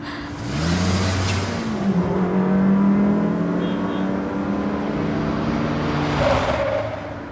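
A car engine revs and pulls away, loud and close at first, tone rising through gear changes before easing off into the distance.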